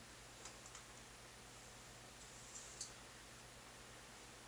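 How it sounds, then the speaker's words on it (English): Faint clicks of typing on a computer keyboard from an open microphone during an online calculus class, a few scattered keystrokes over a steady low hum. "You're typing away."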